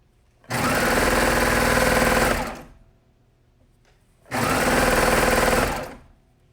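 A sewing machine stitches jersey fabric for a Kingdome Jersey top in two loud, even runs of about two seconds each, with a quiet pause between.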